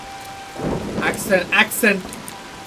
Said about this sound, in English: And it is so gorgeous now in the rain.